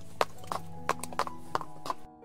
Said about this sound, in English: Annie rode her special horse, Falada, and the maid rode a pony.